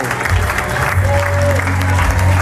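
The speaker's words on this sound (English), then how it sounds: "Give them a big round of applause." Audience applause at a supervisor training event, a dense wash of clapping over a low droning hum, steady and loud for a couple of seconds.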